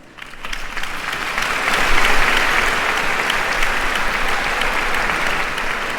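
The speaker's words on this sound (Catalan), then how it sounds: "per al que vos demanem un altre fort aplaudiment" Audience applause for a composer and pianist, building quickly into a loud, even wash of clapping that holds steady to the end.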